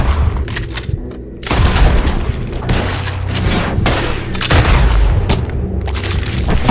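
Loud gunfire in Red Dead Redemption 2: heavy booming shots and rapid volleys, close and dense across the whole stretch, with no speech over them.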